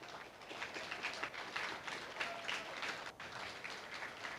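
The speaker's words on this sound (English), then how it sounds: "let's give one more round of applause to our 4-H members for showing" Faint, distant applause from a county fair crowd honors 4-H members showing bucket calves, a soft, steady patter of clapping that continues for a few seconds without talk.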